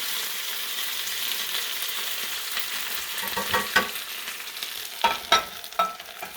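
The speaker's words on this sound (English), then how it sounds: "I always fry my fried taters in bacon grease." Sliced potatoes fry in hot bacon grease in a skillet, a constant close sizzle that grows busier toward the end with several sharp spatula scrapes and stirs; no talking.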